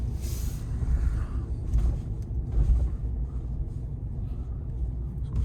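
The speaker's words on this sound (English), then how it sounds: "So I'm just going over some bumps here." A 2019 Ram 1500 Classic Night Edition crew cab 4x4 pickup rolls over bumps, heard from inside the cab as a steady low road rumble with dull thuds and knocks, no talking.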